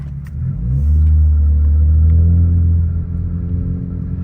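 A car launches hard with traction control off, its engine rumbling and revving loudly up close as the tires spin, a steady deep roar that swells and then eases slightly.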